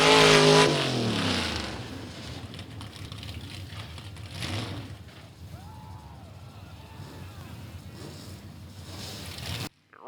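A 1955 Chevrolet drag racing down the strip roars loudly at the start, then fades into a steady engine drone as it pulls away, with faint crowd and announcer sounds beneath.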